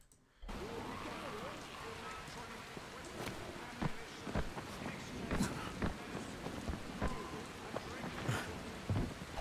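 Heavy rain falls in the video game Dying Light, a dense, continuous patter with scattered louder drops and splashes, holding steady throughout with no voices.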